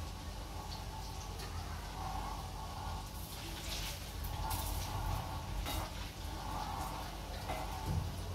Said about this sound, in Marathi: असं जरा लालसर झाले ना तळून काढून टाकायचे.